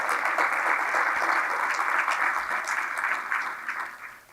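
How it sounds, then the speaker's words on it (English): Conference audience giving a sustained round of applause for event sponsors at a general session, steady dense clapping that gradually fades toward the end. "please join me in giving them a round of applause."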